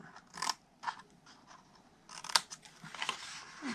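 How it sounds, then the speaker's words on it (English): Scissors cutting a rectangle from the top of a paper gift box: quiet, close crisp snips and paper scratching in short irregular strokes. "we're going to cut the rectangle off of the top and then wedge it out"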